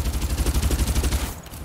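Rapid, steady bursts of gunfire from the battle royale video game Farlight 84, loud and close, with evenly spaced shots that ease off briefly near the end.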